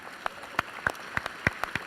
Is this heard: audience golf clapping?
yes